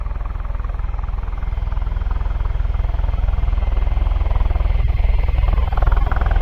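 A C-17 aircraft departs RAF Mildenhall with a loud, steady low engine roar that fills the whole stretch, rumbling and slightly pulsing with no break.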